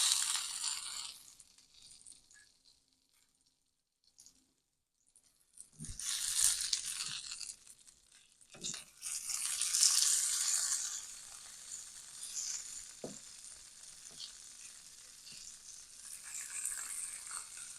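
Shishito peppers cooking in a pan give a soft, intermittent sizzle with crackly bursts and occasional small pops, quiet at first and then a steadier fry, with no voices.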